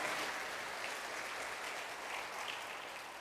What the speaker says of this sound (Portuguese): Você pode aplaudir a Jesus por isso